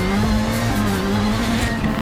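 Rallycross race cars funnel into a tight corner at Memphis Global Rallycross, a loud sustained engine drone with steady pitch lines and tire noise, close and continuous with no voices.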